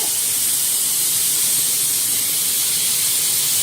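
A loud, continuous hiss of steam escapes from a pressure cooker, steady and unbroken throughout, with no voices.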